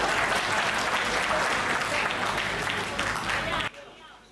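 An audience at a Hindi comedy poetry gathering breaks into applause, a thick wash of clapping filling most of the clip before stopping suddenly, leaving near-silence.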